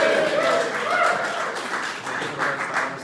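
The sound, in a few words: crowd cheering and clapping at championship draw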